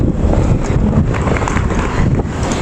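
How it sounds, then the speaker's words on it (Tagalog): Strong, steady wind in Tokyo roars across the microphone, a constant dense rumble with no voices. "Mahangin pa."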